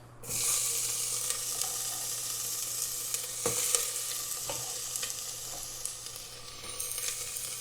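Onions hit hot oil in a pan for beef barley soup and fry with a steady loud sizzle, broken by scrapes and clacks of stirring.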